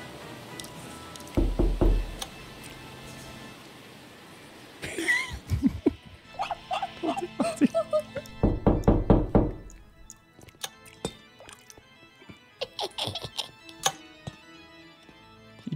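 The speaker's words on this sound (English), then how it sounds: "Do a door knock." Door knock sound effects in the Minecraft video game, several clusters of sharp knocks spaced over the clip, loud and close, with game sounds between them and no talk over them.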